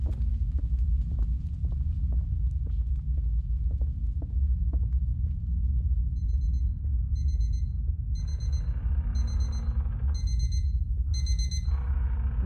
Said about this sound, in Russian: Выключаю будильник.